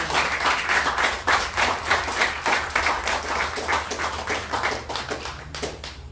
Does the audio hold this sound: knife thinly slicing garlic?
no